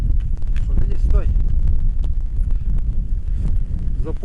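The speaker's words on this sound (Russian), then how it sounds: "Сегодня ветрено маленько." Wind buffets the microphone outdoors, making a loud, continuous low rumble with gusty surges throughout, and a voice is faintly mixed underneath.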